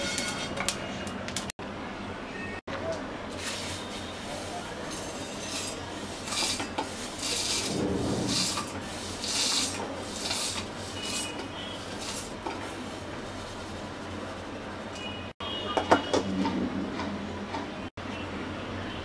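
Fried spices for a garlic, olive and chilli oil pickle ground in a blender, a long uneven grinding roar mixed with clattering kitchen utensils and brief cut-offs, fairly close.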